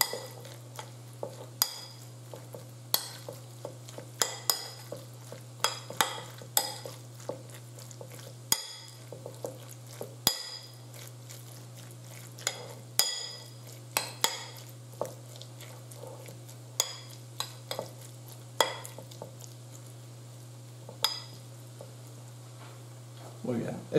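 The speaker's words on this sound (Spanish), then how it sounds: "Mezclamos un poquito." Dorado tartar marinade with habanero sauce being mixed, with soft, repeated utensil clicks and taps against a bowl over a steady low hum, while a person talks.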